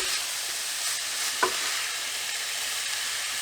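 Minced beef browning in a pan gives a constant bright sizzle, with a soft scrape of the spoon as it is stirred and pressed down, close and even throughout.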